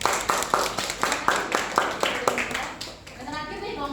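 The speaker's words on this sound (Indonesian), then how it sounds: "beri tepuk tangan untuk kelompok 2" A short burst of rhythmic clapping in a classroom, evenly spaced claps for group 2 that fade out near the end, with voices faintly present.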